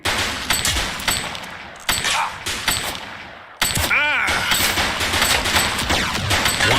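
Police shootout gunfire in The Precinct, with sharp repeated gunshots in quick bursts, a brief silence, then a renewed loud barrage with a siren-like wail rising and falling under it.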